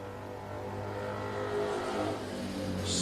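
A vintage road racing motorcycle, number 122, runs a lap at an AHRMA national roadrace in race 14. Its mid-pitched engine drones steadily from a moderate distance, swelling slightly, with no talk over it.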